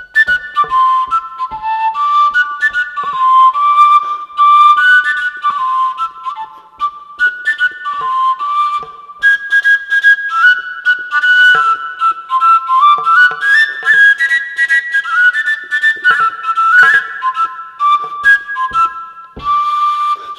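A willow flute (seljefløyte) plays the birthday song, clear, loud and close, with breathy whistle-like notes stepping up and down in a lively melody and brief breath gaps between phrases.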